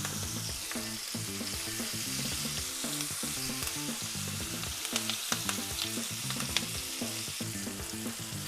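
Carp steaks sizzle loudly in a frying pan after being flipped, a dense continuous crackle and spatter with some sharper pops toward the end, no talking.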